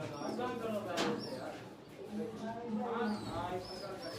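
Large Teddy pigeons brought from Multan coo softly in a breeding loft, low rolling calls mixed under someone talking nearby.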